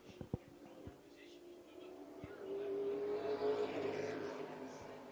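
PASS super late model race cars running final practice at Hickory speedway: a few sharp knocks open, then a distant engine swells into a rising, whining pass that peaks and fades, heard from afar with faint ambient chatter.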